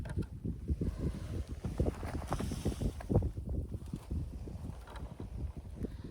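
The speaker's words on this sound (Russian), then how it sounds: "Ветер сегодня сильный" Strong wind during a snowstorm on a winter pike-fishing trip, heard from inside a tied-down tent: continuous gusty rushing with rapid flutter and buffeting, fairly quiet and steady throughout, with no voices.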